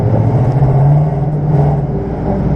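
A Ford Mustang drift car at Ferté-Gaucher accelerates gently, its engine holding a loud, steady low drone that rises slightly before easing, close and continuous with no talk.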